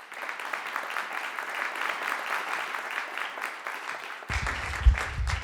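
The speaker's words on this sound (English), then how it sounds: "please, a warm round of applause for Philippe" An audience fills the room with sustained, even applause for a speaker at a SaaS pitch talk, the clapping continuing steadily before a low rumble and a bump near the end.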